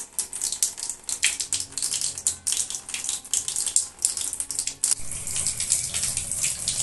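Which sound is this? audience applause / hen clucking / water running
water running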